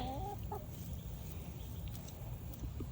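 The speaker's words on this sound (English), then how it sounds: "we can pick Chops up. These 2, we can pick them up. We don't get pecked. But they're not real happy about it" Backyard hens, including black Australorps, giving a few soft clucks near the start over a steady low background rumble, then mostly quiet with faint scattered sounds.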